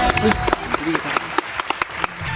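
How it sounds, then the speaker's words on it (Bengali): A studio audience claps at a Bengali comedy game show, sharp overlapping claps over a busy background with voices mixed in, brief and fairly loud. "এই হাততালি দাও, হাততালি দাও"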